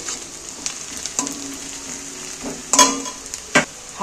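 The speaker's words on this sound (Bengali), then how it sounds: "এইবার আমি তেলের মধ্যে পেঁয়াজগুলোকে নাড়াচাড়া করে ভেজে নেব" Onions frying in hot oil while being stirred, a continuous sizzle with several sharp scrapes and clinks of a spoon against the pan, close and alone.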